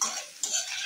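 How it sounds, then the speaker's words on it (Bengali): Steamed cauliflower is tossed in a hot pan, giving a short burst of soft sizzling and a light utensil scrape, close and brief, with no voices. "এবার এখানে আমি ভাপিয়ে রাখা কপিটা দিয়ে দেবো। দিয়ে এখানে আমি ভালোভাবে নেড়ে চেড়ে ভেজে নেব।"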